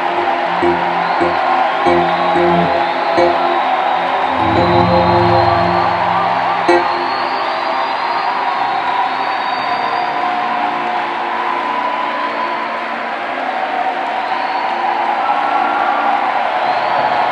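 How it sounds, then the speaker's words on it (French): A church congregation cheers and acclaims Pastor Ken as he steps forward. The loud, sustained roar of voices and whoops goes on without a break, with talking mixed into the noise. "Pasteur Ken avance sous les acclamations du peuple de Dieu."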